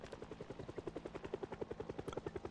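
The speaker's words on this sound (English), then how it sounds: "And we're gonna see what happens here to the helicopter sound." A helicopter passes overhead in the zombie survival game Project Zomboid, its rotor beating in a fast, even pulse with a low engine drone beneath, fairly faint and steady with no talk.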